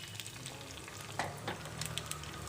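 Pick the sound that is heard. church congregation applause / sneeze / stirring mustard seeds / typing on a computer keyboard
stirring mustard seeds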